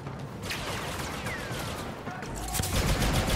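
Rapid blaster fire from a First Order rifle in Star Wars Battlefront II, a continuous rattling stream of shots at moderate level that swells louder near the end.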